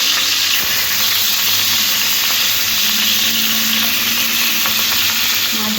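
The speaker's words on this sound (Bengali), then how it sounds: "তেলের মধ্যে এই নুন আর হলুদ মাখা কাতলা মাছগুলো একটা একটা করে তেলের মধ্যে দিয়ে লাল লাল করে ভেজে নিতে হবে" Katla fish pieces coated in salt and turmeric frying in hot oil, a loud, dense, continuous sizzle with small crackles throughout.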